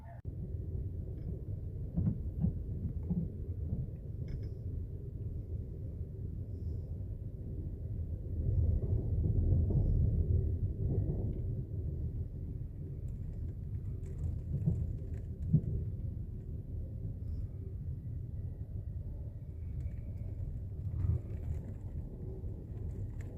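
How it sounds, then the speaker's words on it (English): Heavy rain drums on a car driving through Colorado pasture and mountain country, a dense steady low roar with deeper rumbling swells that suggest distant thunder, continuous for over twenty seconds with no talking. "It is raining very, very hard through here."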